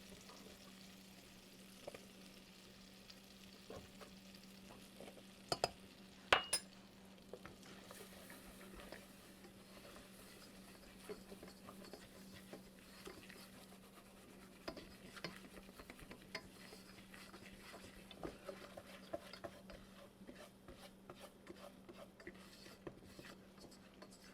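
Two tablespoons of flour being stirred into melted butter in a pan to start a roux, a soft steady scraping and faint sizzle with scattered light clicks of the utensil, no talking.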